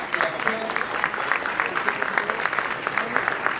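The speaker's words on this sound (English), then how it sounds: "How about a big round of applause for the chefs" Applause for the chefs at a family night gala dinner, a dense, steady patter of many hands clapping throughout, moderately loud with a crowd murmur underneath.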